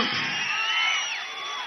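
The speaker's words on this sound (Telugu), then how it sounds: "మీ అరుపులు మీ కేకలు" A brief burst of shouting and cheering from a big rally crowd at Pawan Kalyan's Varahi Yatra in Korukonda, a dense roar of overlapping voices that holds steady and then eases slightly.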